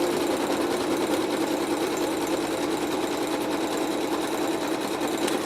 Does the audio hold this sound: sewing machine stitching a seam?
yes